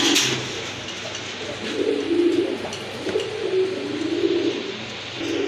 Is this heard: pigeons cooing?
yes